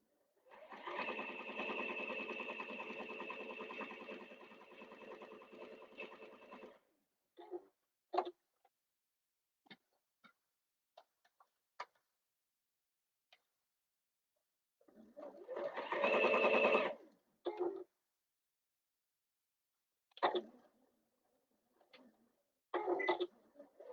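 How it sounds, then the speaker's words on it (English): A sewing machine stitches the sides of a handbag pocket in its lining, running in a long close burst, then in short stops and starts, with a longer run later. "we're just sewing every single the sides of the pocket down"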